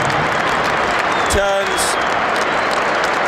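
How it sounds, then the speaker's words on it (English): A football crowd at St James's Park gives Sandro Tonali a standing ovation as Newcastle United play West Ham United, a dense, steady roar of clapping from the stands that continues under a commentator's voice. "Sandro Tonali receives a standing ovation"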